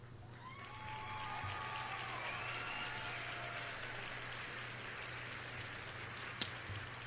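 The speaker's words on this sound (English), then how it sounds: "this rain is really throwing me off" Steady rain patters continuously on a surface close by, a broad even wash of noise lasting throughout with one brief sharp knock near the end and no talk over it.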